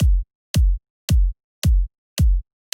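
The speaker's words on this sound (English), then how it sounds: "what we call a 4 on the floor kick beat" A punchy electronic kick drum thumping steadily in even four-on-the-floor rhythm, five deep hits with silence between, loud and dry.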